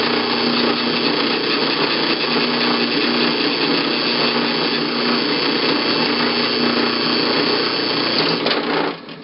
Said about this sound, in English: I'm going to drill my hole